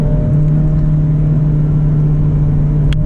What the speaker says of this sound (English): So it's easy to downshift because I don't have to rev match.